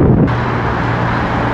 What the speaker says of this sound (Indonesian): anginnya pun masih kencang ya